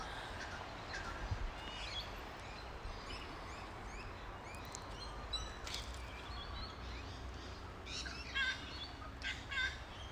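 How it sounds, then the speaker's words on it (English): Forest birdsong rises in short, scattered calls at moderate distance, a few chirps and whistles standing out over a soft, steady woodland ambience with no talking. "Another bird call, a different one this time."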